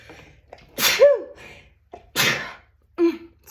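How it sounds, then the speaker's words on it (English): A woman sneezes a few times in quick succession, close and loud, with sharp bursts separated by brief breaths and a short voiced catch after each. "I'm going to sneeze."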